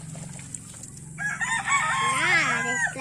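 A rooster crows loudly and close at a small backyard chicken farm, one long rising-and-falling call following a stretch of lower clucking and farmyard noise.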